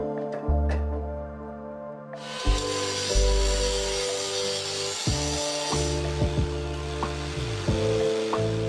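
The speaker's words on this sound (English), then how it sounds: "I'm going to cut a keyway right here" A keyway is cut by hand into a pulley mounted on a shaft for a homemade lathe, producing loud, continuous rasping with tonal ringing and several abrupt stops and restarts of the tool.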